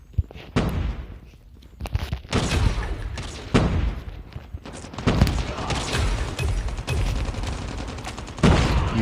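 Loud, repeated gunfire in the shooter game COD Mobile, including sniper rifle shots, comes as sharp cracks and dense bursts throughout, with game voices heard between the shots.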